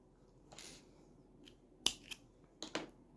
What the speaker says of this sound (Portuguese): aqui eu vou laçar e vou cortar esse barbante